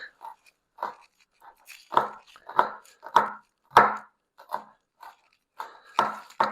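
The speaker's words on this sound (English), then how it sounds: "let's go ahead and chop our garlic" A knife chopping garlic on a cutting board: about a dozen crisp, uneven knocks with quiet gaps between them, close and clear, with no talk.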